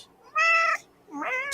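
A cat meows twice up close, two clear, tonal calls separated by a short pause, the second rising and bending in pitch, with no talk over them.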